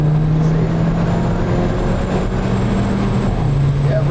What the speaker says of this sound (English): Yeah, it revs up pretty quick.